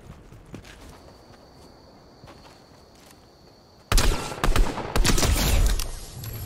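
Gunfire in a first-person shooter game, starting faintly under quiet movement, then erupting into loud, rapid automatic bursts with sharp cracks for the last few seconds.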